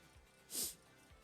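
A single short, breathy sniffle, quiet and close, with faint background noise around it.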